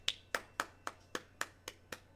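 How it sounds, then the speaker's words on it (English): Nine soft, evenly spaced hand claps in a slow golf-clap rhythm, close and quiet, with no voices. "Golf clap."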